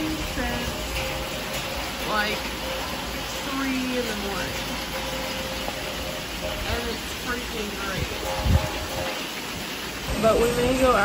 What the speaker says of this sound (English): It's been raining the entire time.